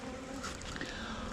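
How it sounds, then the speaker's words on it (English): Bees of several kinds buzzing inside a hive, a dense, continuous low drone with no pauses, close and fairly faint. "there's probably 3 different kinds of bees in here"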